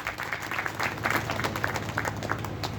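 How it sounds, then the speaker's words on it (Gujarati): Audience applause welcoming a banjo player at a religious Sai Katha gathering at a Jalaram temple, a steady patter of many hands clapping throughout, moderately loud. "કેતનભાઈનું સ્વાગત કરવા માટે તાળીઓથી આપણે વધાવીશું મિત્રો."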